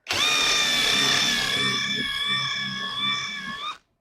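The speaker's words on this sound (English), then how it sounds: "bore that end out a bit more" A power drill fitted with a screwdriver bit whines steadily at high pitch for nearly four seconds, close by, boring into the end of a wooden desk piece before cutting off abruptly.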